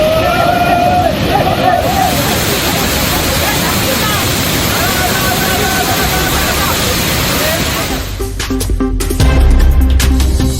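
Rushing roar of Kumbakkarai waterfall with tourists bathing, a steady dense wash of falling water throughout and a faint murmur of voices mixed in.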